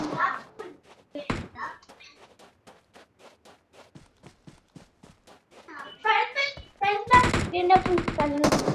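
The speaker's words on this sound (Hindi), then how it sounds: "हर जगह से शॉट्स आ रहे" Gunfire from all sides in a shooter video game, sharp broadband bursts clustering loudly toward the end after a stretch of quieter taps, with a voice speaking early on.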